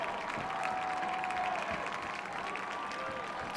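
Spectators at a high-school football game rise and make noise before a third-down snap, a steady distant crowd roar with scattered claps and shouts running throughout.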